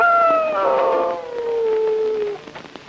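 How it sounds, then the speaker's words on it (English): A dog gives a long, wavering howl that slides downward in pitch, fairly close and prominent over a soft background. "Whose dog is that?"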